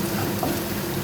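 Ginger, garlic and onion fry in a pan, giving a steady, close sizzle that holds even and unbroken throughout the brief moment.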